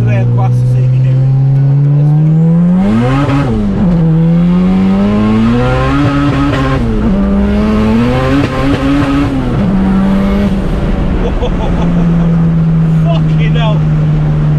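A tuned 1000 bhp Honda Civic engine revs hard from second gear and climbs in pitch, dropping briefly at each gear change before pulling up again, a sustained close-up roar throughout.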